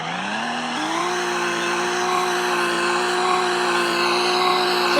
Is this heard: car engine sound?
yes